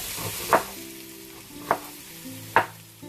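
Onion dropped into hot oil for an egg and potato sabji, giving a steady faint crackle with three sharp clattering stirs spread evenly across it, no voices.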